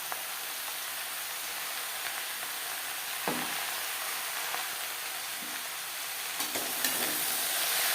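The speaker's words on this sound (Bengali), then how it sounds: "লবণ হলুদ বেশ ভালো করে মিক্স করে দেওয়ার পর" Bottle gourd with salt and turmeric sizzles steadily in a pan, while a spoon scrapes through it in occasional stirring strokes. The sound is close and continuous, with no talk.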